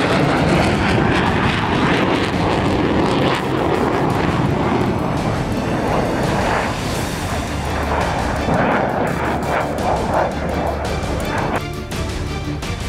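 A Chinese J-36 sixth-generation fighter jet flies overhead, its loud continuous engine roar a broad, steady rumble and whoosh lasting throughout without any talk.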